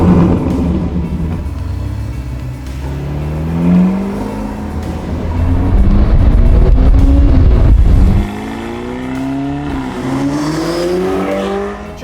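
A 2020 Ferrari Portofino, driven with its roof down, revs hard through rising gear pulls. The engine note is loud and close and swells under acceleration, surges loudest midway, then drops back and climbs again, with a little wind and tyre noise.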